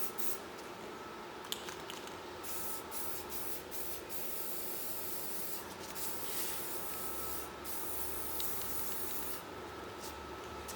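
Gloss spray paint hisses steadily from a can onto a 3D-printed Power Rangers Samurai Red helmet, a continuous close spray broken by short pauses between passes.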